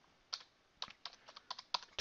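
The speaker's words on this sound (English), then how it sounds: "I'm going to type in" Light, uneven clacks from a computer keyboard, short clusters of keystrokes separated by brief pauses, close by and soft against a quiet background.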